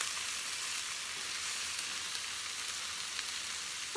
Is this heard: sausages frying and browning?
yes